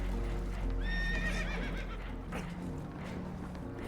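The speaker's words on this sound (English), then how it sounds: "Horses are spooked" Spooked horses whinny loudly in Red Dead Redemption 2, a shrill neigh over clattering hooves and a low rumbling background.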